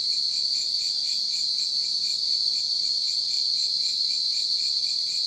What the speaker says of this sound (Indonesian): Cuma kedengaran suara jangkrik aja.